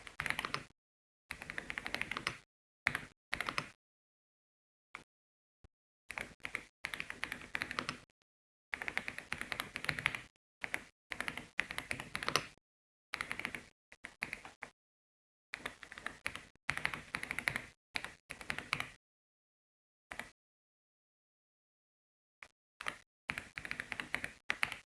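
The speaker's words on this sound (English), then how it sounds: "This is the part where you pay attention and type the code the way you see them on the screen." Code is typed on a computer keyboard in irregular bursts of quick, close key clicks separated by silent pauses.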